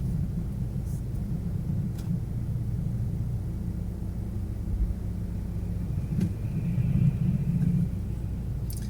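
A steady low rumble of a car driving on the road, heard from inside the vehicle, with continuous engine and tyre drone and a few faint clicks.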